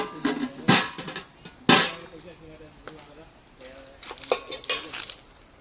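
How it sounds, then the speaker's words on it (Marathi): A metal lid set down on a cooking pot while mutton and crab kanji are made, giving a few sharp clinks and clangs of metal cookware close by, with short pauses between knocks. "झाकण देऊन ठेवतो याच्यावर."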